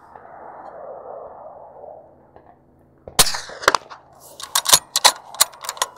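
Subsonic .300 BLK House of Pain rounds fired suppressed at an outdoor range make a soft muffled pop, followed by a rapid series of sharp cracks and thuds, with distant impacts into the dirt berm.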